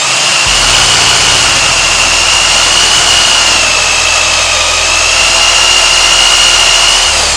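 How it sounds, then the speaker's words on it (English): A drill turning slowly as it bores out old steel rivets about a century old, giving a steady continuous whine with a constant high tone that runs unbroken throughout, loud and close with no voices. "I've got the drill going slow, which I had it before"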